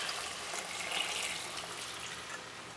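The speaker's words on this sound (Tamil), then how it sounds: "இனி இதில் வந்து நம்ம 1/2 லிட்டர் வந்து சுடுதண்ணி வந்து நான் சேர்த்துக்கிறேன்." Half a liter of hot water is poured into a chicken meatball curry, giving a soft, steady watery rush for a few seconds, fairly quiet and without speech.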